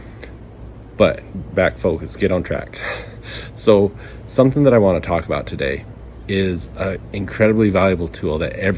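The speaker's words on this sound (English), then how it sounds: "they're called cicadas. They're in Arizona. They're a bug that makes that noise." Cicadas in an Arizona backyard keep up a steady, high, shrill drone throughout, a constant insect buzz running beneath someone talking in the foreground.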